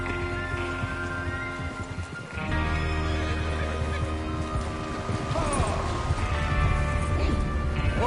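Horses in the video game Red Dead Redemption 2 neigh and whinny over steady hooves and a dense game soundtrack, with a sharp rise in overall loudness partway through.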